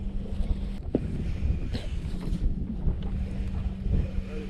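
Steady wind buffets a fishing boat out on the water, a continuous low rumbling roar with gusty swells and faint knocks, close to the microphone and with no talking.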